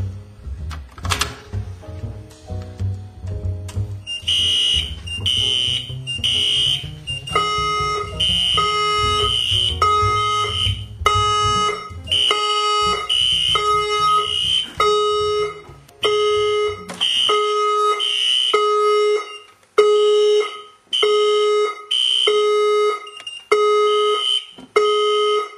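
Fire alarm panels being hooked up and activated set off a loud, repeating electronic alarm tone in rhythmic on-off bursts, after a low rumble of handling noise fades out early on.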